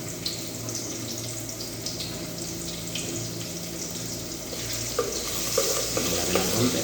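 Garlic frying in a pan as the base for a simple sardine dish with chili and kulitis, a steady close sizzle with light stirring and utensil clinks growing busier toward the end.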